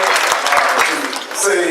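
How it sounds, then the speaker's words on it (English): Audience at a gala dinner breaks into brief applause, a dense patter of clapping under a speaking voice that carries on over it. "Let's give her a round of applause"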